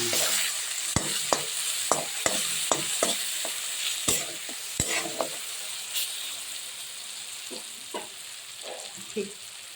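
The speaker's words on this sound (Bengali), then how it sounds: "হলুদ দিয়ে আবার একটু নেড়ে দিচ্ছি" Green papaya being stirred with turmeric in a hot pan, a spatula scraping and clacking in irregular bursts over a steady close sizzle, no voices.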